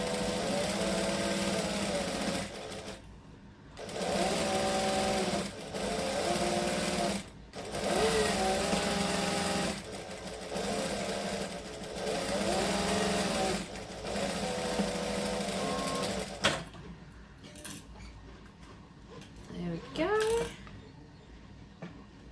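A sewing machine stitches shirt fabric in several long, steady whirring bursts separated by brief pauses, close by, with a few faint clicks and a voice near the end.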